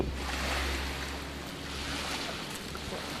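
Steady broadband wash of sea waves at a beach, continuous and fairly close, with a low rumble underneath and no distinct breaks, no voices.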